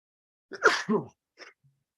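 A single sharp sneeze bursts out close by, followed by a small breathy sniff.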